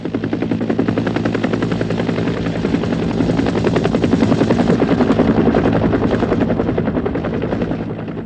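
A Cobra military attack helicopter roars close by, its rotor thumping in a rapid, steady chop that swells slightly louder midway.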